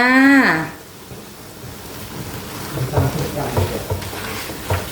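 Spicy stir-fried rice noodles cooking in a wok, a short burst of voice at the start, then soft sizzling with scraping and tossing clatters from a spatula.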